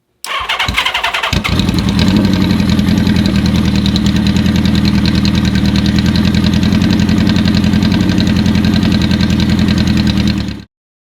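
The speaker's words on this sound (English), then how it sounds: "I'm going to start the bike, and let's see if this goes up" A bobber motorcycle engine with a suspected stator fault cranks briefly, catches and then idles loudly and steadily with a fast, even rumble for about nine seconds before cutting off abruptly, no talking.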